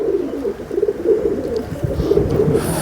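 A pair of pigeons, male and female, coo repeatedly at close range in a soft, continuous, throaty rolling rhythm.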